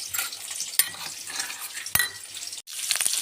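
Potatoes frying in a pan, with a soft sizzle broken by sharp scrapes and clinks of a spatula stirring against the metal, close and moderately quiet.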